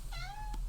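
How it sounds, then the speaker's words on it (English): A pet cat gives a single clear, rising meow indoors, close and fairly soft over a low background hum, with no talking during the call. "There's my cat."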